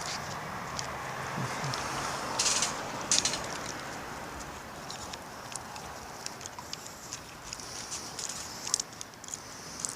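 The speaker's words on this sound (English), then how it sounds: "It's raining all day." Rain falls steadily outside as a soft, constant patter close by, with scattered sharper drips and taps rising now and then above the quiet hiss.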